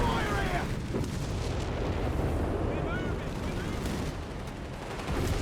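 Artillery fire in Company of Heroes 3 booms in a dense, continuous battle roar, loud and rumbling throughout with layered distant blasts and no clear gaps.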